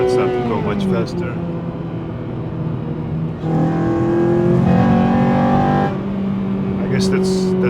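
A Honda Civic Type-R race car drives and revs, its engine rising in pitch through the gears at close range. A brief gap near the middle comes before the engine climbs again, loud and steady throughout.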